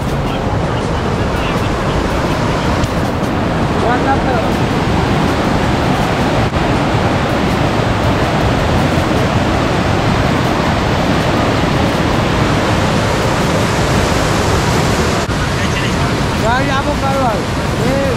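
The Ganges at Gangotri, Uttarakhand, rushes steadily and loudly through the whole stretch, a broad continuous roar like a fast-flowing river, with faint voices barely audible beneath it.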